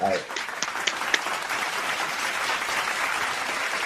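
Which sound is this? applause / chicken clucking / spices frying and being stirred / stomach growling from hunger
applause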